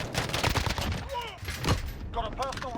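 Rapid single-fire shots from an MK12 SPR marksman rifle in Modern Warfare crack out in quick succession, loud and close, with a brief voice cutting in between the bursts.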